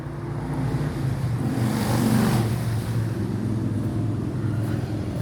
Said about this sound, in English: have a listen to all the motorbikes